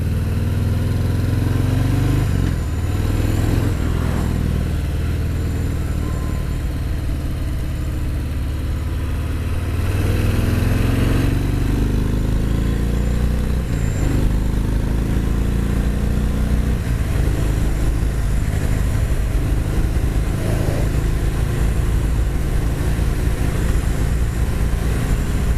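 A Harley-Davidson Fat Bob 114 motorcycle engine rumbles through a ride, a deep loud continuous drone that rises and falls as the throttle opens and eases, mixed with steady wind rush.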